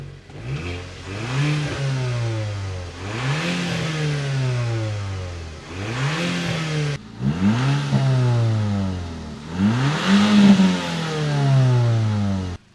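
An Audi S3 engine revs repeatedly, rising and falling in pitch through several throttle pulls, loud and close, with no talking.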